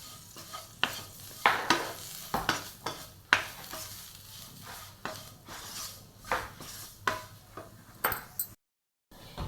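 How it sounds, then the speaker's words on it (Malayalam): Onions and masala for chicken mappas sizzle and fry in a pan, with repeated scraping strokes of a spoon stirring against the metal at an uneven rhythm, close and fairly loud. "മസാല ഒന്നും കൂടി നന്നായി മൂത്ത് വരട്ടെ"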